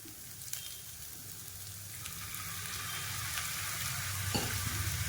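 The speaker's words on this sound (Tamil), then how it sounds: "இப்போ இதை சேர்த்துட்டு இது நல்லா கிளறி விட்டுக்கிறேன்" Lemon rice being stirred in a pan makes a soft, even sizzle with faint scraping. The sound is quiet and continuous, swelling slightly toward the end with a few light taps and no speech.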